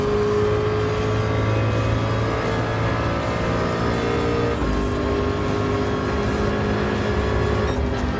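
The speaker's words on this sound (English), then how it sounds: "This Ford GT race car is going to be in first place once again for it" Ford GT LM Spec II Gr.3 race car engine in Gran Turismo Sport, a loud steady drone holding high revs, with a gear change midway and a sustained roar after, close and without speech.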